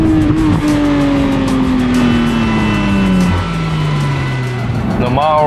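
A Porsche 991.2 GT3 Clubsport flat-six engine holds one loud, steady note that drifts slowly lower over several seconds, then climbs again sharply at the very end, close and continuous with voices faintly present underneath.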